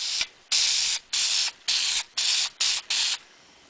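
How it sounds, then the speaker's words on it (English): A series of about seven short, sharp bursts of lacquer spraying onto a wooden table, hissing loudly in quick succession with brief silent gaps between them. "the lacquer is going to cause it to highlight the different colors of wood. And we'll spray this down"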